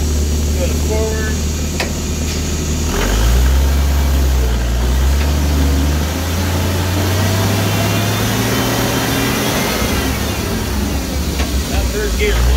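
The engine of a five-speed manual forklift drones low and steady as it drives forward, its pitch rising and shifting between gears beneath a hiss, while someone talks.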